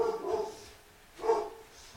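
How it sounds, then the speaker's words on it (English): A dog barks twice at a distance, muffled, low and spaced about a second apart, with no voices over it. "Someone is barking, I guess."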